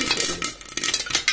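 Popcorn kernels bursting inside a covered pan on the stove, a busy scatter of sharp pops and small clatters against the lid and metal, fairly close and steady throughout.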